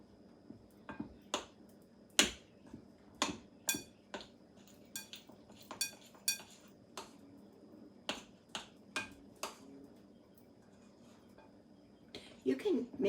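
A spoon clinks and scrapes in a bowl while stirring 7UP and sour cream into biscuit dough, giving irregular sharp taps spaced about a second apart at close range, with faint background room noise.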